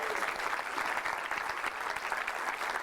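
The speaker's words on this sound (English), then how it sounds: "Please give them a round of applause." Steady applause from an audience at the opening ceremony of a no-code summit, a dense even patter of many hands clapping continuously at moderate distance with no voices over it.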